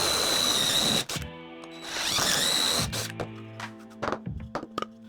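A power drill with a large bit bores through wood propped on scrap, a loud high whine for about a second, a pause, then a second burst. After that come scattered knocks and handling clatter up close.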